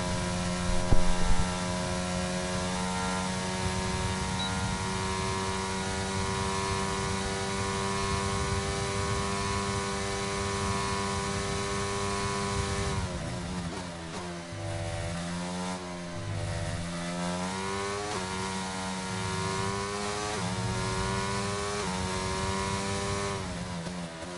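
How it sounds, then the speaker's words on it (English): A high-revving Mercedes racing engine in a video game, on a lap at Belgium, drones continuously, with pitch sweeping up and down through gear changes, loud and steady throughout. "let's have a listen, sorry, into the new Mercedes engine"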